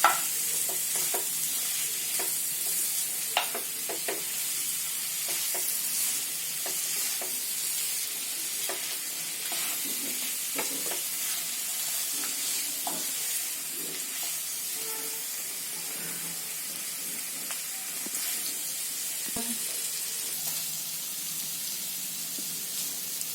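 Mutton bhuna masala fries in a pan while being stirred, a steady close sizzle with intermittent scraping and clinks of the spoon, no voices.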